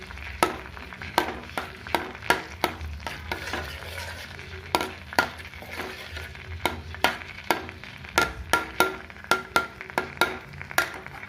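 Coconut is cooked down to oil in a pan over a low flame at home, giving a soft, steady sizzle. A stirring spoon repeatedly taps and scrapes the pan in sharp, irregular clicks throughout.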